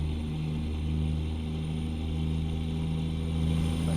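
Kenworth 521 Needle Nose truck in American Truck Simulator, heard from the cab with a steady low engine drone and constant tonal hum at moderate level, no speech.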